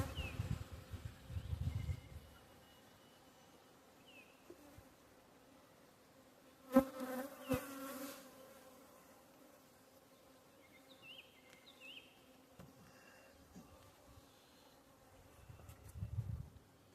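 Honeybees buzzing around a hive frame with burr comb during queen rearing, a faint, continuous hum with a few louder close passes and a brief clatter near the middle.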